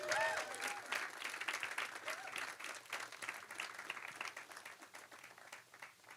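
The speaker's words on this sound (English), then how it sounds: "Let's give him a round of applause again." Audience applause at an HR conference, a sustained, fairly distant patter of many hands clapping, with a few whoops and shouts near the start and the sound gradually thinning.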